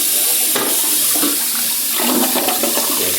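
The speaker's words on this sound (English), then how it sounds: "We'll flush it." A toilet with a newly replaced supply valve and flapper flushes loudly and close, a gushing rush of water swirling and draining over several seconds, then the tank starts refilling, with no talk.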